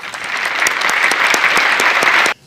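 Warm applause from a lecture-hall audience welcoming a speaker to the podium, steady dense clapping for a couple of seconds before cutting off abruptly.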